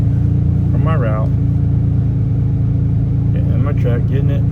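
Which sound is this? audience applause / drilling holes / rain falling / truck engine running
truck engine running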